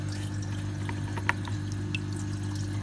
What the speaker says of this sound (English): a sort of a medium to fast, probably a fast drip going